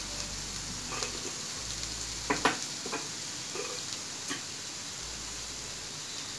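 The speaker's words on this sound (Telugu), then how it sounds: "ఆనియన్స్ బ్రౌన్ కలర్ వచ్చేంత వరకు ఫ్రై చేసుకోవాలి." Onions fry in a pan with a steady, close hiss of sizzling oil, broken by a few soft clicks and stirring knocks partway through, with no talking.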